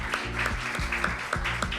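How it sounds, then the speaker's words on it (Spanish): An audience claps for poets at a live festival in Tandil, a short burst of steady crowd applause with a few voices mixed in. "les pido un fuerte aplauso"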